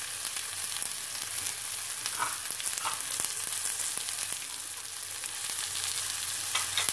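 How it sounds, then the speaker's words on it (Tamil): Tomato sautéing with ginger garlic paste in a hot pan, a dense, steady sizzle heard close up, with a few faint clicks of stirring over it. "ஒரு தக்காளிய நல்லா கொஞ்சம் வதங்கணுன்னு கொஞ்சம் இஞ்சி பூண்டு பேசலாம்."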